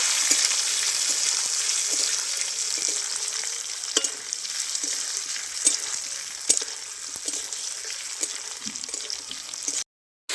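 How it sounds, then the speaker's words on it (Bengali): Potato pieces frying in hot oil for an egg-paneer curry, giving a steady close sizzle with scattered pops and occasional stirring scrapes throughout, briefly cut to silence near the end. "ওই তেলে এবার আমি আলুটাও দিয়ে দিচ্ছি ভাজার জন্য।"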